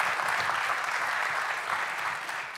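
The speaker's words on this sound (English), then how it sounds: "Round of applause if you know about this feature." A conference audience breaks into a brief, even burst of applause, a steady wash of many hands clapping that stays level throughout.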